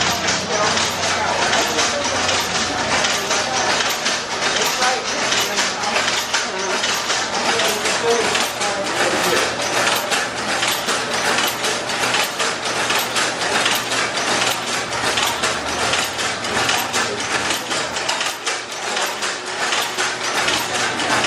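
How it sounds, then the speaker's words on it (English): A century-old taffy machine runs steadily for the whole stretch, its continuous clattering, ratcheting gear mechanism churning loud and close, with faint background voices from a busy shop in Tennessee. "my favorite thing though was this taffy machine"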